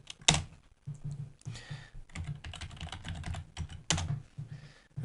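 Keys clatter on a computer keyboard in quick irregular bursts with short pauses between, close and fairly quiet, with an occasional louder thumping keystroke.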